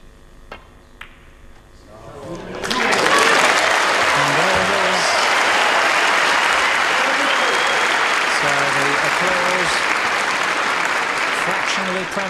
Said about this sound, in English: Just listen to that applause for a really wonderful champion, a wonderful player indeed